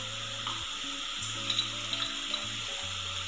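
Ground coriander, cumin and Malvani garam masala sizzle in hot oil for a Malvani-style prawn curry, a steady close frying hiss with faint stirring scrapes and a low electrical hum underneath.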